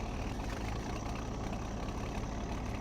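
Tractor engine idling in Farming Simulator 17, an older modded tractor on a foggy farm morning, giving a steady, continuous low rumble at moderate level with no talk over it.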